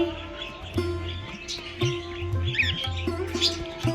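Small birds chirp in a zoo enclosure at Dharamshala, quick high tweets and calls scattered over a steady background hum, fairly close and moderately faint.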